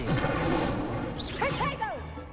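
Incendio fire spell cast in Hogwarts Legacy: a loud whooshing burst with crackling, rising and falling tonal sweeps near the end, over a dense game soundscape.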